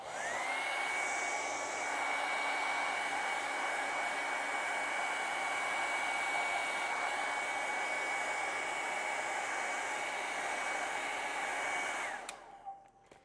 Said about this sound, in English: I'm going to go over this again with the hairdryer just to make sure,